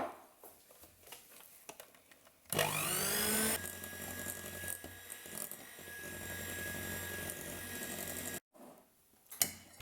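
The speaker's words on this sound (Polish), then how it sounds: "I będę miksowała już teraz śmietanę razem z serem." A kitchen mixer blends cream with cheese: after some quiet clatter, the motor spins up with a rising whine, runs steadily for several seconds, then cuts off abruptly, followed by small knocks.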